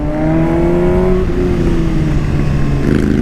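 A Ducati Monster motorcycle with its 796 L-Twin engine revs loudly up close, the pitch climbing and then settling into a throaty, rumbling idle.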